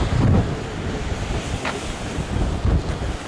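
Ocean surf breaking at Holei Sea Arch in Hawaii Volcanoes National Park on the Big Island, a loud continuous roar of waves with heavy wind buffeting the microphone and swelling crashes near the start and end.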